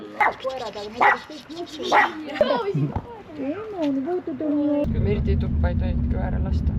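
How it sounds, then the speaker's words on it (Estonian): A small puppy newly brought home yips and whimpers in high, bending cries between a woman's speech, then a car's engine rumble takes over beneath the last few seconds. "See on meie koer."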